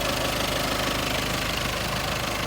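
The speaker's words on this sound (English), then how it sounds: "That's the engine running." A 2014 Audi A3 2.0 TDI 150bhp diesel engine idling with the bonnet up, a steady loud close-up clatter with rhythmic knocking and vibration, constant throughout with no talk.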